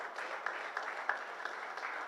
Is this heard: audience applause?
yes